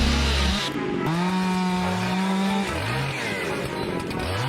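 A chainsaw felling a tree roars up close, its engine revving up and down in repeated rising and falling pitch sweeps, with no talk over it.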